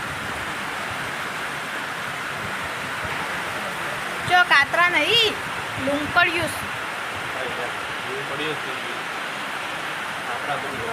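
Steady rain hisses over village fields, a continuous even wash of drops throughout, with a voice speaking briefly over it in the middle.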